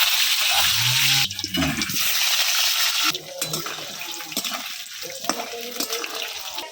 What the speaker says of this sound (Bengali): কড়াই গরম হয়ে গেছে তার সাথে তেলও গরম হয়ে গেছে এখন আলুগুলো ভেজে নেবো